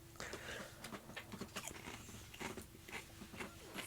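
Someone eats crunchy ketchup chips close to the microphone, with repeated crisp bites and chewing crunches in an irregular rhythm at a soft level.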